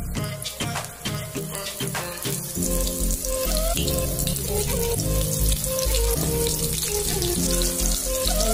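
Soybean pakoras are lowered one at a time into a kadhai of hot oil, setting off a steady, dense bubbling hiss that stays loud and continuous throughout with no talking.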